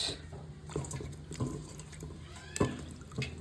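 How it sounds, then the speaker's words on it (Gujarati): Potatoes are washed by hand in a vessel of water before peeling, with sloshing, splashing and dripping sounds close by, a few sharper splashes standing out over a steady watery background. "બટેટાને ધોઈ લઈએ બીજું કંઈ આટલું પાણી બસ"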